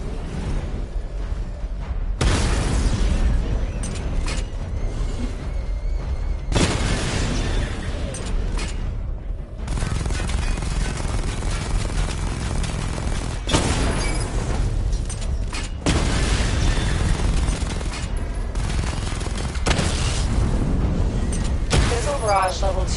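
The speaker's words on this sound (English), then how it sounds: "Charge the missile barrage to level 2 to destroy up to 4 targets at once." A continuous, loud barrage of heavy booms and blasts from the Batmobile's missile weapon in Batman: Arkham Knight, with dense overlapping explosions and brief lulls across the whole stretch.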